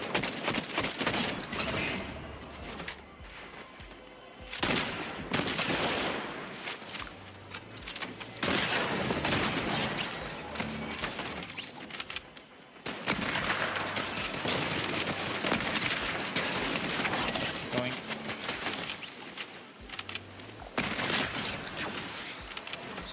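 Rifle gunfire in the Fortnite video game comes as repeated bursts of sharp game shots and impacts over about twenty seconds, with no talk.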